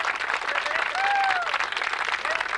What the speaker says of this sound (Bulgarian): Ръкопляскания!